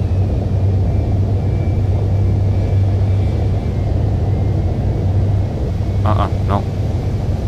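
Steady airliner engine roar and rumble in a flight simulator game as the plane takes off, a continuous droning hum that fills the whole stretch, with a brief higher chirp near the end.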